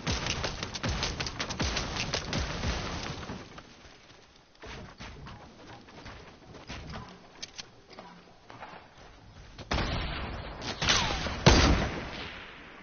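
Bursts of rapid gunfire from an enemy squad in an online shooter video game, dense volleys at the start, a sparser lull, then heavier shooting again toward the end.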